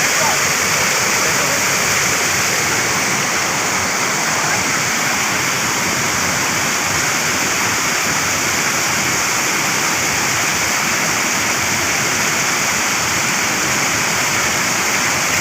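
Kashmir waterfall pouring down in a loud, steady roar of rushing water, constant and close throughout with no breaks.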